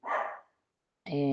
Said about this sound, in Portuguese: desculpa o barulho, o cachorro da minha sobrinha lá do fundo tá latindo